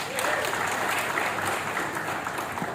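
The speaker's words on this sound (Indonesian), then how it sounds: "Tepuk tangan dulu dong." An audience at a Dayak community gathering claps in sustained, dense applause that stays even in loudness throughout, with no speech.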